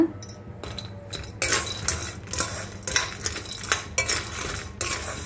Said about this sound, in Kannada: ನಾನೆಲ್ಲ ಒಟ್ಟಿಗೆ ಹುರ್ಕೋತಾ ಇದ್ದೀನಿ